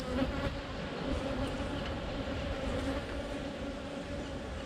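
Honeybees buzz steadily and loudly throughout a hive inspection, a dense continuous drone of many insects close by with no talking.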